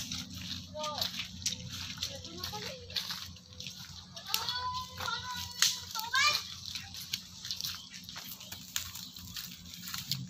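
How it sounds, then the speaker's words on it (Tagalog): A swollen river overflowing after Typhoon Ulysses gives a steady, broad rushing wash throughout, with voices and scattered bird-like chirps over it. "So guys, ganito po kalaki ang ilog."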